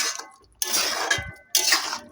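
A spoon scrapes and stirs through cooked beans with chopped coriander in a pan, two steady bursts of wet scraping separated by a brief pause, close and fairly loud.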